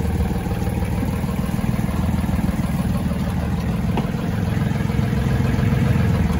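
Fishing boat motor running at a steady, even rumble with rapid mechanical chugging, close and loud throughout, no voices.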